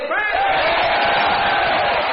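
A large audience at a live gathering shouts a name together in one loud, sustained unison cry lasting about two seconds.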